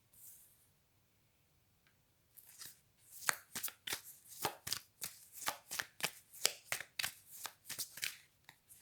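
A deck of cards is shuffled for a reading, starting after a quiet pause with a run of crisp, rhythmic riffling snaps repeating steadily and close up, with no talking.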